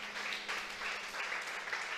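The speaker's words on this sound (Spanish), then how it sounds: "¿Cuántos le aplauden al Señor," A church congregation applauding, a brief burst of soft, dense clapping from many hands heard at a distance, fairly quiet and steady.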